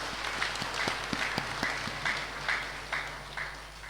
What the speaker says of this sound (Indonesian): Tepuk tangan untuk Jemaat Bukit Doa.